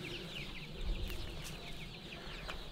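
Chickens cluck softly under a tree in a garden, a faint scattering of repeated clucks over a low outdoor background, with no talking.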